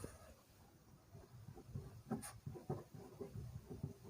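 Pen scratching out an equation on paper, quiet continuous strokes with small taps, close and without talk.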